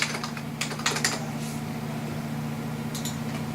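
Keys clatter on a computer keyboard in quick irregular bursts, close and clear over a steady low hum, with no talking.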